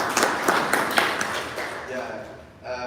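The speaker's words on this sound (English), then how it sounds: "Let's clap for them." Audience clapping at an investment forum in Toronto, a burst of scattered applause for a company that fades out within a couple of seconds, with a person speaking over it.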